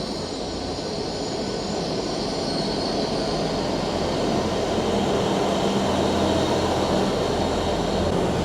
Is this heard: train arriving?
yes